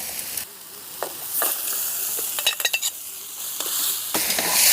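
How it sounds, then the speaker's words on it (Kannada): Cooked mutton added to frying tomato masala for a dum biryani: a low sizzle runs throughout, with spoon scrapes against the pan and a quick cluster of clattering strokes in the middle, close and fairly loud. "ಇವಾಗ ಅದಕ್ಕೆ ಇವಾಗ ನಾವು ಬೇಯಿಸ್ಕೊಂಡಿದ್ದು ಮಟನ್ನು ಹಾಕ್ಬಿಡೋಣ"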